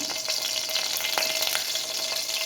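Ginger and garlic sizzle and crackle in hot oil for a mustard mango pickle, a steady close frying hiss with a few sharper pops, no voices.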